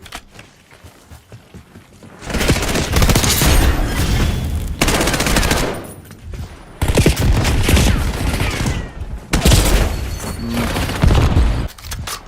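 Gunfire from a weapon in a first-person shooter video game, with loud sustained bursts of rapid automatic shots broken by brief pauses, close and dense.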